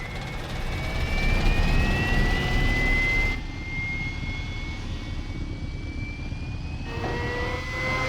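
Very old airplane with a distinctive rattle, its engine drone loud and continuous with rising whining tones, the sound cutting abruptly to a thinner, quieter layer midway and then swelling again.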